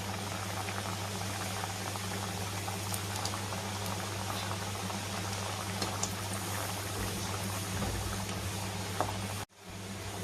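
Khaja pastries fry in hot oil over a low gas flame, giving a dense, steady bubbling sizzle that runs continuously close up and breaks off briefly near the end.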